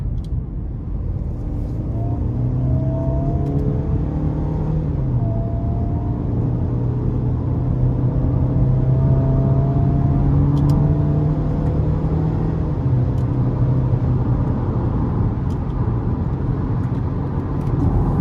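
A 2012 GMC Terrain with the 2.4-litre four-cylinder engine pulls steadily from inside the cabin, its low drone climbing in pitch and then dropping as the automatic shifts gears in manual mode, with road rumble throughout and no talking.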